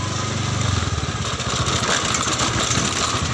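A local resident's motorcycle engine runs steadily on a city street in Bogor at night, a continuous close, loud mid-pitched drone with a pulsing low rumble throughout and no talking.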